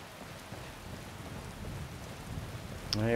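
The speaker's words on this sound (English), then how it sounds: "I need it to stop raining." Steady rain in the game Skyrim hisses evenly throughout, a soft constant patter with no voices, ending in a brief louder tonal sound.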